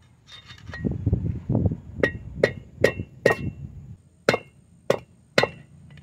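Hammering out a stuck, damaged front wheel bearing race on a Ford E-series van (E250/E350/E450): a run of dull thuds, then sharp metallic ringing strikes spaced about half a second apart, close and loud, pausing between blows.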